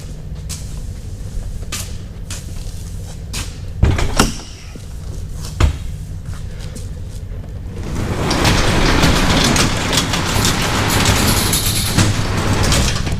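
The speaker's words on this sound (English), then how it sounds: "I'll open that overhead door and show you why I can get it in here" An overhead shop door rattles and clunks open, with a few sharp metallic knocks early on, then a sustained rolling rumble and clatter as the door travels up, fairly close and loud.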